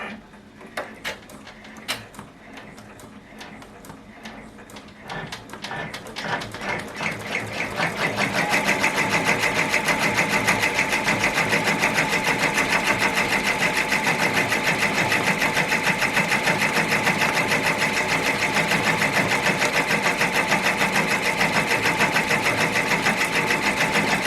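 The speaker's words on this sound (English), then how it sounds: "when you're stitching on these straw hats, you are going to have some thread" An embroidery machine stitches on a straw hat, starting with sparse clicks and taps before settling into a loud, steady rapid stitching rhythm that runs continuously to the end.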